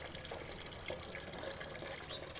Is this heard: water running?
yes